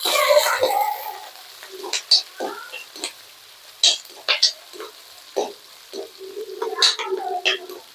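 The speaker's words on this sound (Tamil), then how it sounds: "சின்ன வெங்காயம் நல்லா வதங்கணும் நல்லா பொன்னிறமாக வதங்கணும்" Small shallots sauté in sesame oil for a chicken fry, with intermittent sharp scraping strokes of stirring over a quiet sizzle, the stirs coming in irregular bursts close by.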